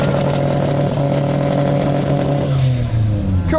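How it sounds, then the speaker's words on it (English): A supercharged 900 hp big block Chevy V8 drag racer revs loudly and steadily up close, its deep engine roar holding with slight pitch shifts, and faint voices underneath. "inch V8 with a supercharger, 900 brake horsepower, big block Chevy drag racer"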